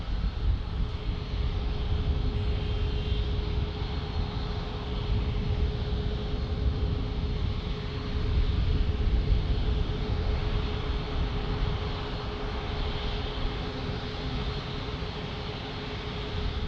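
A steady, broad jet roar from a passing Gulfstream business jet fills the whole clip at San Diego International Airport, swelling slightly midway, with a faint hum underneath and no voices.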